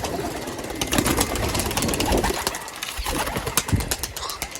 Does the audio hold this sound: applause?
no